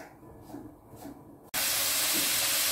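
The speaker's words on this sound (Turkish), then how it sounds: "Ocağa götürüp kavurmaya başlıyoruz." Fatty minced meat hitting a hot pan on the stove, a muffled lead-in followed by a sudden, loud, steady hiss of frying that holds to the end.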